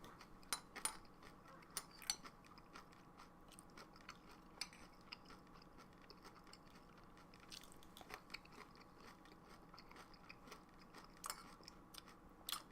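Someone chews crunchy Morning Summit cereal close to the mic, with soft, irregular crunches and occasional sharper bites spread over several seconds in a quiet room, with no talk.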